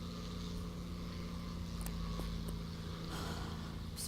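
A large twin-propeller airplane in the War Thunder video game drones in flight at high speed, a steady loud hum with a few brief clicks and a swell near the end.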